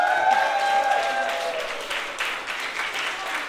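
A cabaret audience applauds for the new hosts in a steady, dense wash of clapping that stays moderately loud throughout, with a brief vocal whoop at the start.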